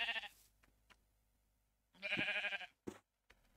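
Sheep in the Minecraft video game bleat from a spawn egg: two short, bright, close bleats separated by silence, with faint clicks between them.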